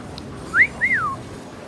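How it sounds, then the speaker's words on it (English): A person gives a two-part whistle, a quick rising note followed by a longer rise-and-fall wolf-whistle call, clear and close against faint background hiss, somewhere in Tokyo, Japan. "Oh, she doesn't know when people are whistling at her."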